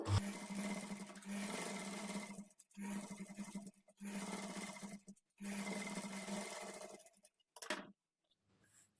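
A domestic sewing machine with a normal presser foot stitches thread piping onto fabric, running in several steady bursts of close, continuous whirring separated by short pauses.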